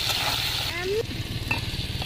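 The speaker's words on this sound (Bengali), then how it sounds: "পরিমাণ মতো লবণ, পরিমাণ মতো হলুদের গুঁড়ো দিয়ে লাল লাল করে আলুগুলো ভেজে নেব" Potatoes frying in oil with salt and turmeric in a village-style kitchen, giving a steady close sizzle broken by scraping stirs and a few faint tonal squeaks in the background.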